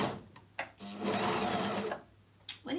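A sewing machine stitches along elastic in one sustained run of just over a second, framed by soft clicks and handling sounds before and after, with a quiet pause near the end.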